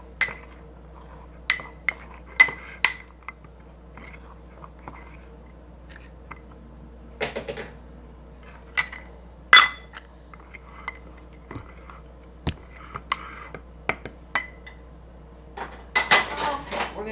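Clear gel and fruit being mixed in a bowl with a utensil, scattered sharp clinks and scrapes against the bowl in irregular bursts, with soft wet squishing between them and quiet gaps.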